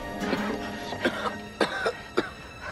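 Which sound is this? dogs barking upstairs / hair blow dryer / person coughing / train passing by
person coughing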